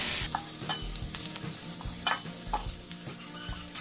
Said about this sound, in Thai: พอหมูใกล้สุกนะคะ เราก็เอากุ้งเราใส่ลงไปเลยค่ะ